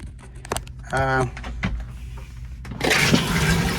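An RV toilet flushes after a water pump replacement: a few clicks and a brief whining pump tone come first, then a loud rushing flush fills the last second, with sounds of movement nearby.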